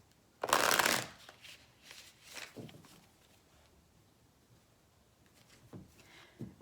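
A deck of tarot cards is shuffled up close. One loud riffling burst is followed by softer card sounds and shuffling, with quiet gaps in between.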